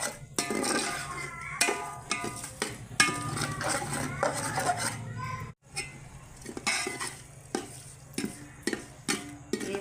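Vegetables sautéing in oil and being stirred in a pot for meal maker pulao with potato and carrot, with steady clinks and scrapes of a spoon over a soft sizzle, broken by a brief pause midway.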